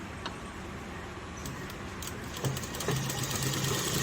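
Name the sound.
sewing machine stitching an Afghani salwar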